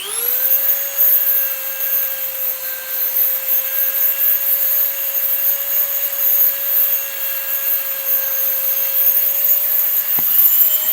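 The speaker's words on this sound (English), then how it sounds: "This is a very soft polishing type wheel. I am intentionally not using anything that generates any sparks." A Dremel rotary tool spins a soft polishing wheel against an engine valve from a third-generation Hemi, scrubbing off carbon. A steady, loud, high whine holds for the whole stretch, with a slight rise in pitch at the start.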